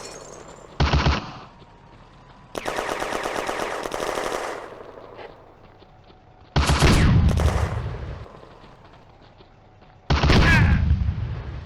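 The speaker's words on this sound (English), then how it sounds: "The Hotchkiss lays down suppressing fire on the German machine gun nest." Hotchkiss machine gun laying down suppressing fire on a German machine gun nest during a May 1940 firefight at Chateau Marchin, heard as several loud sustained automatic bursts separated by short pauses, with no talk.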